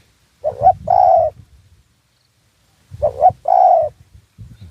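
A spotted dove coos in two separate bursts, each a short low note followed by a longer, fuller one, heard clearly against an otherwise quiet background in an outdoor dove-calling setting.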